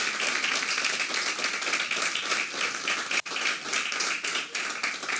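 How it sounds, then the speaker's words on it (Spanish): Congregation in a church applauding steadily and loudly throughout, a dense sustained wash of clapping with one brief dip near the middle. "Aplauda, Señor, claro que sí. Es para Cristo el aplauso"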